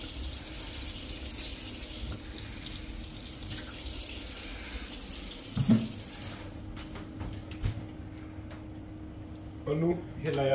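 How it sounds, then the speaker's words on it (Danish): Water runs from a kitchen tap into a decilitre measure for a brownie mix, a steady hissing gush that changes and tails off partway through, followed by small clatters. "Og nu hælder jeg 1 deciliter vand i min kageblanding."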